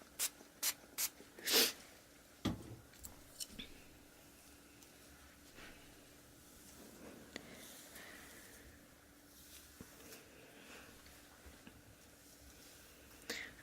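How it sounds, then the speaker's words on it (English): Hairspray hisses from a can onto hair in several short, close bursts at the start, then quieter rustling and occasional soft taps follow. "over on the right side, you might need to add some more hairspray."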